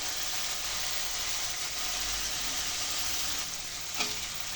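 Spices sizzle and fry steadily in a pan while masala is cooked down for a fish curry with raw tomatoes, a dense continuous hiss with a faint clink near the end, no talking.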